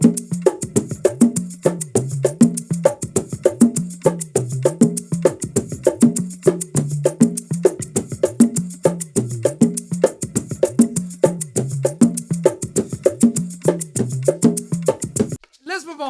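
Bongos played in a steady repeating pattern of high and low tones with short rests, crisp close slaps and open notes continuing for about fifteen seconds before stopping abruptly.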